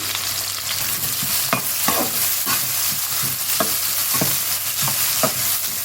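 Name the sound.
onions and green chillies frying in oil in a kadai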